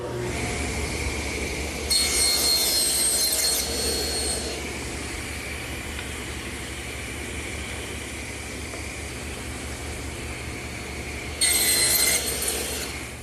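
A table saw runs steadily while wood held vertically in a tenoning jig is cut, with two louder bursts of blade whine early and near the end over a constant motor drone.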